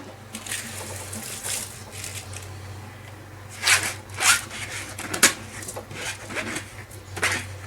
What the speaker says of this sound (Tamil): இனி அரிசியை சேர்த்துடலாம்.